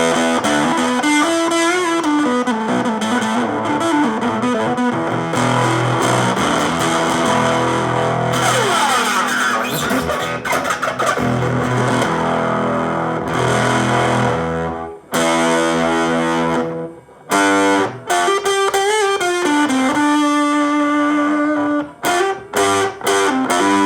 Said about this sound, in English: if we turn it up higher, you start to get more distortion